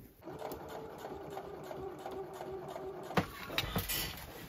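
A sewing machine stitches fabric for a dress, giving a steady, close mechanical whir with a faint rhythmic patter, followed by a few sharp clicks near the end.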